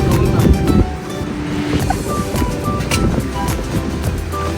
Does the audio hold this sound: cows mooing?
no